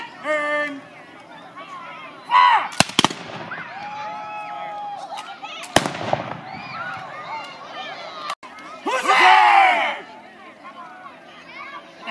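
A musket volley at a Civil War reenactment: shouted commands come first, then loud sharp gunshot cracks sound several times, some in close succession, with crowd noise and chatter throughout.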